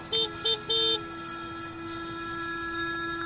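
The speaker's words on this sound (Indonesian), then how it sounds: "Refleks aku memencet klakson." Three sharp horn honks, two short and one longer, sound close by, followed by a steady engine hum.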